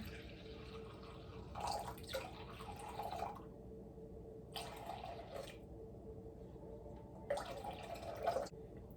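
Water pours in three short bursts into a bowl for sourdough bread dough, a splashy trickling stream that starts and stops, fairly quiet with no talking.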